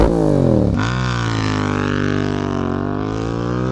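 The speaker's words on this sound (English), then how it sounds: "you're going to get that awesome sound with the aftermarket exhaust" Yamaha motorcycle fitted with an Akrapovic carbon full race exhaust with the baffle removed, a loud close rev that drops sharply then settles into a deep, steady idle burble, heard alone.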